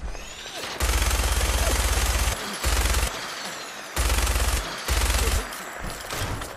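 Minigun fire in Fallout 4: several long, loud sustained bursts of rapid automatic shots, broken by short pauses, close and dominant with a deep rumbling body.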